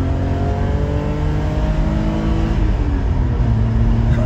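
A BMW 333i engine drones loudly from inside the car under steady acceleration, its pitch climbing, then shifting and climbing again as it pulls through the gears. No one speaks.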